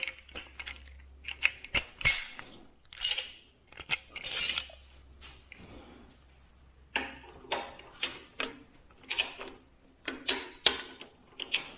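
Torque wrench clicking as it tightens bolts on a K&N air filter, a series of sharp mechanical ratchet clicks and ticks in irregular bursts, close up, with short pauses between rounds.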